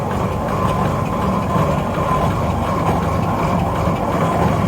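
A Burrell single-cylinder steam engine at a steam rally, its exhaust chuffing steadily and loud in a continuous rumbling drone with low mechanical noise, close by and without talk.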